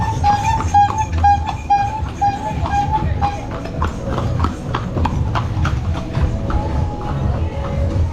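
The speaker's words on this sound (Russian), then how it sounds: "сзади конь едет" Horse hooves clip-clop along a busy road on the Gili Islands as a horse comes up from behind, a steady, fairly close trotting rhythm running through the whole stretch with faint background chatter.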